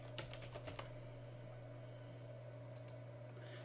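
A short burst of keystrokes as a password is typed on a computer keyboard: quiet rapid clicks in the first second, then a few more near the end over a low steady hum.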